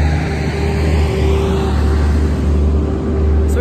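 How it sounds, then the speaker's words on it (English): A garbage truck passes nearby with a steady, loud, low engine rumble and road roar that holds for several seconds without a break. "Garbage truck."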